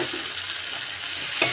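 Potatoes and Malabar spinach stirred into a crab masala frying in oil make a steady, loud sizzle, with soft scraping throughout and a brief utensil knock near the end, no voice.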